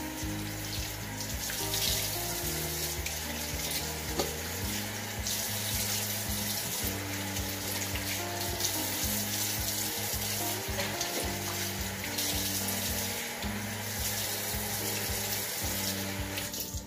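Lukewarm water runs from a tap into a sink during a facial cleansing routine, a steady close rush that continues without a break for the whole stretch, with no talking.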